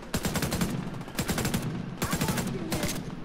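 Rapid automatic gunfire aimed at a friendly player in The Division 2, coming in four sharp bursts of closely spaced shots, loud and close, with brief pauses between bursts.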